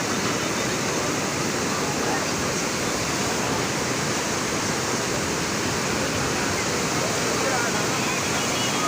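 Heavy rushing water near a Chamunda temple roars as a steady, loud, broadband wash, like a waterfall or flooded stream, continuous throughout with no clear voices.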